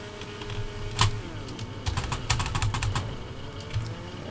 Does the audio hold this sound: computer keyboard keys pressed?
yes